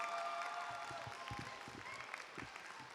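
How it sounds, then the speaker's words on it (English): Applause at a high school STEM commencement ceremony for graduates' families and supporters, a dense, fairly distant crowd clapping that holds steady throughout. "I want you to give them a round of applause"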